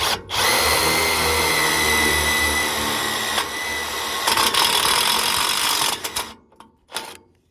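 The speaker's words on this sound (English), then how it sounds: "Okay, I'm going to put a little hole in here." A power drill whirs loudly and steadily for several seconds, its pitch dipping as it pre-drills a hole into wood for a deck, then stops in short bursts.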